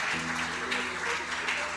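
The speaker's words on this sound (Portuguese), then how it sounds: "Você pode dizer um glória a Deus bem forte e aplaudir o Senhor com bastante alegria?" A church congregation applauding, a continuous bright patter of many hands clapping with a low steady hum underneath.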